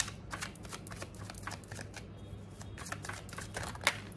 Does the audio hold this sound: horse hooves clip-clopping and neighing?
no